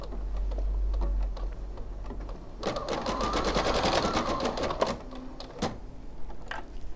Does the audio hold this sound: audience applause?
no